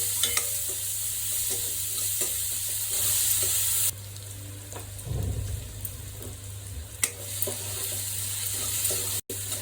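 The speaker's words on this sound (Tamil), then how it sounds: "மூணு சின்ன வெங்காயம், சின்ன சைஸ் மீடியம் சைஸ் வெங்காயம் 3 வெங்காயம் போட்டு வதக்கிக்கணும்" Onions sauté in a kadai with a steady, close sizzle and a few scrapes and stirs of a utensil against the pan.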